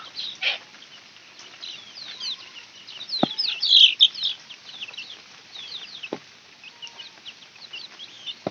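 Backyard chickens, a flock with a rooster among them outside in rainy weather, give scattered clucks and calls over soft rain hiss, with a few brief wing flaps and one sharp knock.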